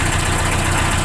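A 1981 Volkswagen Rabbit engine idling just after a cold start, a loud, steady, close running rumble with no variation in pace.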